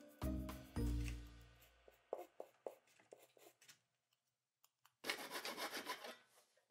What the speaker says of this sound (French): Je me suis ensuite servi de papier de verre de 400 pour adoucir les bords et enlever ce qui dépasse.